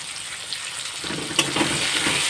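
Onions frying in a pan for egg masala curry, a soft steady sizzle that grows louder about halfway through as they are stirred, with a faint clink, no talk.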